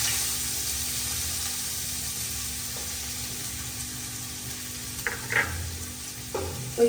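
Onions sizzling as they fry in hot oil for a garnish, a steady broad hiss lasting the whole time with a few stirring clinks and scrapes near the end.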